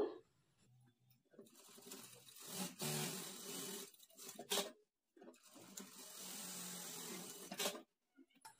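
A sewing machine runs in two sustained bursts, stitching armhole darts on a blouse, with a brief pause and a quiet gap between runs and no talk.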